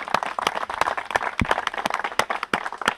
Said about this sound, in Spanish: al cual pido un fuerte aplauso